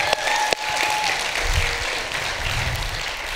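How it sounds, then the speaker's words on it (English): Sustained applause from a church congregation filling a sanctuary at a Sunday morning service, steady and fairly loud throughout, a few sharper claps standing out early, with a faint tone briefly audible beneath it. "how about a quick round of applause for everybody that played any role in getting this sanctuary ready"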